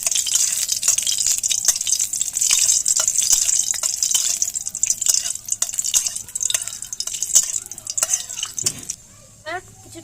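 Dried red chillies and nigella seeds sizzle loudly in hot oil while being stirred, with a bright continuous crackle and scraping taps that thin out toward the end.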